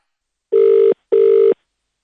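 A phone line rings while calling the police women's helpline: two long, loud, steady ringback tone bursts with a short gap between them, then silence.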